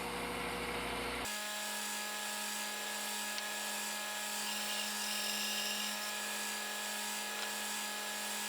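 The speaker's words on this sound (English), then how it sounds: "we're going to take those legs over to the bandsaw, and we'll cut a curve to accept a wedge in that leg" A bandsaw cuts a curve into wooden table legs, its motor giving a steady, even whine with a constant hum underneath, fairly quiet and without speech.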